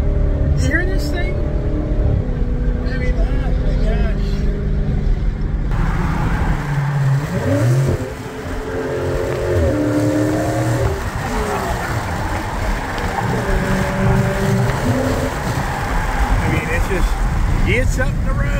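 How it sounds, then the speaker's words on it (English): A Dodge Challenger wide body Scat Pack runs steadily close by, its engine a low continuous rumble with shifting pitch as it drives, audible under people talking throughout. "these Dodge Challenger wide body Scat Packs"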